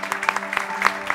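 An audience at a film festival event claps to welcome guests, a crisp run of individual claps with distinct sharp peaks, close and moderately loud, with a faint room hum beneath.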